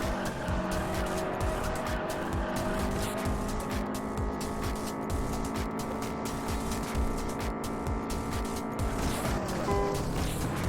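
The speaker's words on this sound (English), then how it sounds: "I'm just spinning out everywhere now." A car in the Juiced racing game spins out with continuous tire squeal and skidding over a droning engine, loud and sustained for the whole stretch.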